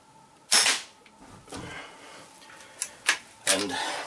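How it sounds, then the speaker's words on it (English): Rifle shots fired while shooting a group at a range, several sharp cracks at about half-second, one-and-a-half, three and three-and-a-half seconds, each loud and close with a short decaying tail, separated by quieter gaps. "Just shooting a group I was using before I turned on the camera"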